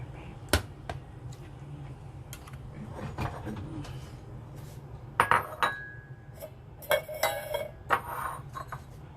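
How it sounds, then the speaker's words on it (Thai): Indian tea being strained and poured into a cup, with metallic and glassy clinks from the strainer and cup and a brief trickle of liquid, under light talk. "ก็จะกรองใส่ในนี้ใส่ถ้วย"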